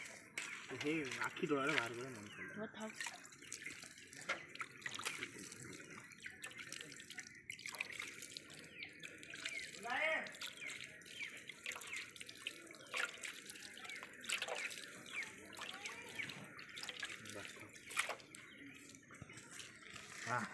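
Raw fish is rinsed under running water in a home kitchen before frying, with steady splashing and trickling under a speaking voice throughout.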